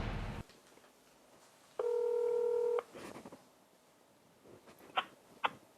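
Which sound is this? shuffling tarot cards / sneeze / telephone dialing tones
telephone dialing tones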